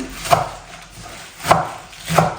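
Three sharp knife chops strike a cutting board at uneven intervals, close and distinct, chopping spinach with quiet pauses between.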